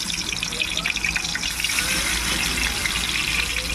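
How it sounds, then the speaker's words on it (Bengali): Fish frying in hot oil gives a loud, steady, close sizzle and hiss with a crackling texture that runs without pause, and no talking. "একটু গরম হওয়ার পরে তেলে মাছটি দিয়ে দেব দেখেন এই তেলে মাছ দিলাম"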